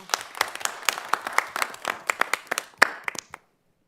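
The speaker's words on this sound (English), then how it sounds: "I'd like to give him a big round of applause" Applause for Darrell at a school district superintendent's workshop, a small group clapping with distinct individual claps that thin out and stop abruptly near the end.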